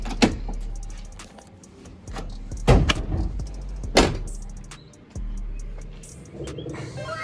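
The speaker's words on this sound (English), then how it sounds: "Let's pop this hood real quick." Hood popped open on a truck fitted with a 2JZ twin-turbo engine: sharp metallic clunks and latch thumps at uneven intervals, with low engine or ambient rumble between them and no talking.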